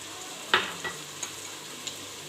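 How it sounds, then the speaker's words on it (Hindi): Spices sizzle in hot oil for an aloo methi tadka, with a soft steady fry under a few sharp spoon scrapes and stirring knocks, close and fairly quiet, with no talking. "अब मैंने मिक्सअप करूँगी और तड़का भूनूंगी"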